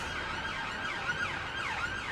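An ambulance siren wails through the streets of Brixton, south London, its rising and falling tone repeating steadily at moderate distance over faint traffic.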